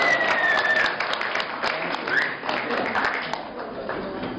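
Audience applause at a college batch award ceremony as the singer-of-the-batch award winner is announced; dense, steady clapping from a large crowd with scattered cheering voices, tapering slightly toward the end.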